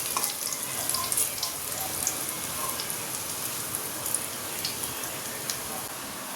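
Lentil fritters (bora) frying in hot oil, a steady, close, hissing sizzle with small crackles and pops throughout.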